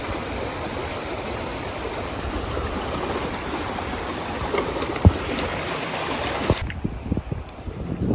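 A stream on the Lost Coast Trail rushes with a constant broadband hiss of flowing water, steady and close for most of the time, then dropping away near the end as a few light knocks and rustles come through.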